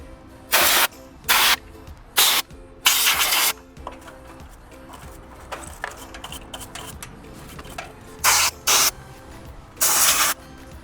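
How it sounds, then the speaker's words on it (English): Compressed air blasts out an air conditioner contactor in loud, sharp hissing bursts, about eight in all, separated by quieter clicking and handling noise, close and with no talking. "get some compressed air and blow out where the electrical connections are"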